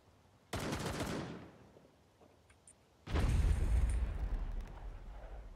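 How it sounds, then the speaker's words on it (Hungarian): Two sharp blasts from a Claymore mine in a video game: a first burst that fades over a second, then a heavier, deeper explosion with a lingering rumbling tail. "Hallom, felrobbant egy Claymore."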